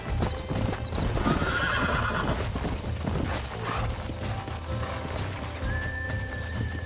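In the video game Red Dead Redemption, a horse gallops with steady clip-clopping hooves and lets out loud whinnies, all close and vivid, with no talk over it.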